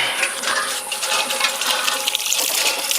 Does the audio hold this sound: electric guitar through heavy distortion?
no